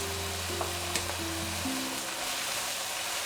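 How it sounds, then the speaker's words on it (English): Broccoli stir-fries steadily in a hot pan with a constant hiss, while a few low tones fade out early and light stirring clatters occasionally. "And just stir it, stir fry it a little bit more."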